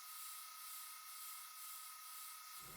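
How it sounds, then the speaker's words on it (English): A propane torch roars with a steady, even hiss while it lightly chars wooden boards for a rustic flag, holding constant and close with no speech until a faint low thump at the very end. "Using a propane torch, I give the pieces a light char to give them some character and that rustic look."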